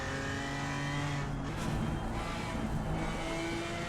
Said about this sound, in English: Downshifts into the final corner.